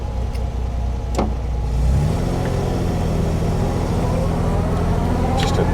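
A 1967 Austin-Healey 3000 Mark III drives past with a steady, throaty engine note that rises as it pulls away, heard close with road and wind noise around it.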